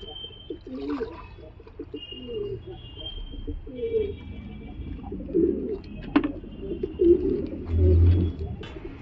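Pigeons drinking garlic water and cooing nearby, low soft coos repeating irregularly over faint chirps and light background noise.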